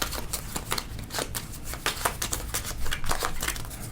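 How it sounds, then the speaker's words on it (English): A deck of board game cards is riffle-shuffled close up, a dense stream of crisp flutters and slaps repeating for a few seconds. "we now draw from this deck of rescued, I've seen one of them, from this deck of rescued thralls, which I will shuffle"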